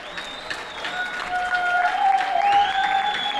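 An audience claps for a guest at a stage drama show in Sargodha, a dense, sustained burst of applause with some voices mixed in, fairly loud and close.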